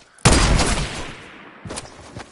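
A sniper rifle shot in a video game, one loud close blast with a rolling tail, followed about a second later by a second, fainter report.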